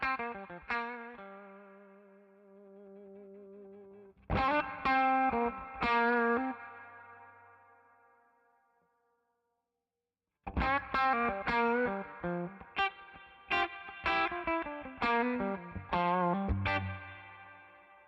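Overdriven electric guitar through a Two-Rock amp plugin, picked notes and chords ringing with distortion, a sustained phrase and then rhythmic choppy strums after a brief silence, clear and alone.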